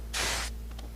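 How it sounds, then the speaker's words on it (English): A spray gun applies a light coat of polyurethane finish in a single short hiss lasting under half a second, close and steady over a low background hum, followed by faint sputters. "I'm just going to apply this with a spray gun."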